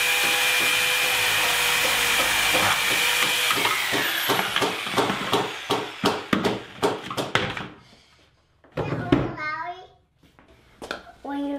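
Holes are drilled and the centre cut out of plastic dust collector bucket lids: a steady loud power tool whine gives way to a series of rapid sharp cutting bursts and knocks, then a pause and a final rough grinding burst.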